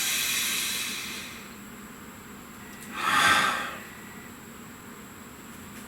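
A single deep inhalation, a soft airy breath swelling and fading about midway through an otherwise quiet stretch with a faint steady hiss.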